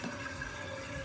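A TOTO toilet tank refilling after the fill valve was serviced, a steady faint hiss and trickle of water running into the tank with a thin whistling tone.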